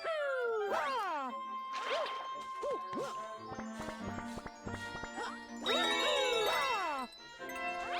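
Coins being collected in Super Mario Galaxy 2, a rapid run of bright chiming jingles and dings layered over the game's music, with occasional crash-like effects.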